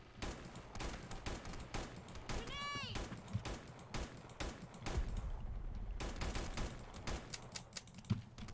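Rapid automatic gunfire from the Black Squad video game crackles in bursts throughout, with a rising whine in the middle and a player's voice talking over the shooting.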